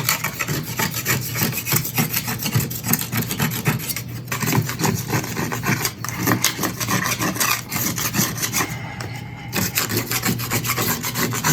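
Steady rasping scrape of a putty knife dragged across a wooden board while building a drawing board, continuous strokes close up and fairly loud with brief pauses.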